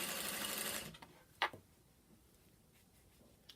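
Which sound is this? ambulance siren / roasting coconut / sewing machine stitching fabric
sewing machine stitching fabric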